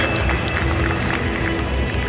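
A crowd applauds the winner of a cosplay contest at Dreamhack Hannover 2022. The clapping is loud and continuous, mixed with crowd noise and a constant tone from the hall.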